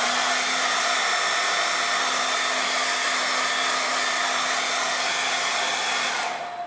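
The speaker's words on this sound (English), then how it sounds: "I'm now going to use the hairdryer." A hair dryer blows steadily on a watercolour painting, producing a loud, even whooshing roar with a faint motor whine. It runs unbroken for about six seconds, then cuts off at the end.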